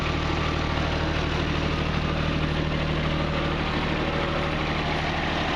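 A Bobcat engine idles steadily just after an engine change, a smooth, even low hum with a fairly quiet tone that runs close by and unbroken, with no talking.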